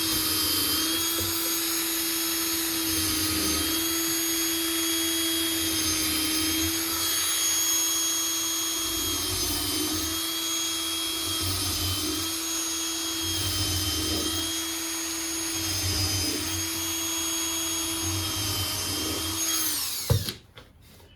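A power driver runs steadily for about twenty seconds, driving screws into a wooden beehive brood box, with a continuous whining motor and rhythmic pulses, close and loud, ending in an abrupt stop.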